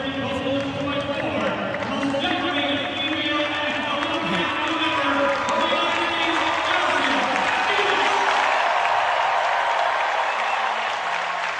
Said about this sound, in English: Don't think for a second that this crowd doesn't appreciate how many times they've gotten to see Allison